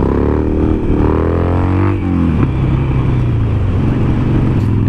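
Loud, close Harley motorcycle engine revving hard during a wheelie, its pitch rising then dropping sharply about halfway before pulling again, with constant road rumble and no voices.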